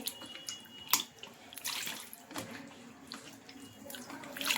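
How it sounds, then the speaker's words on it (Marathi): Raw mutton pieces are rinsed in a vessel of water, giving intermittent splashes and sloshing with brief water bursts and drips in a quiet kitchen. "परत एका पाण्याने मी मटण स्वच्छ धुवून घेते।"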